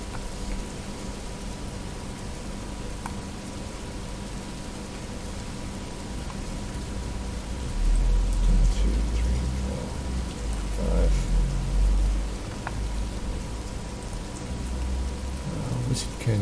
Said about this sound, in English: we'll just have the ambient rain and dice roll.